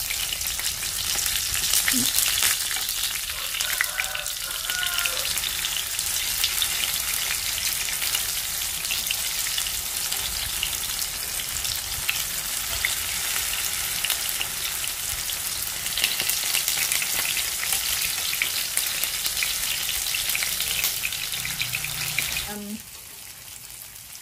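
Tofu fries in a pan for a vegetarian stir-fry with pickled mustard greens, a steady close sizzle running for about twenty seconds before it abruptly drops away.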